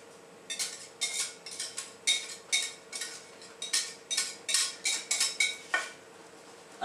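A utensil scrapes and clinks around a saucepan of mille-feuille pastry cream over low heat, a rapid run of sharp metallic strokes close by, steady and rhythmic with no talk.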